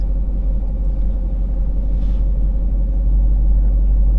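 Dodge Hellcat engine rumbling low and steady while the car reverses slowly, a constant close idle-like drone throughout with no voices.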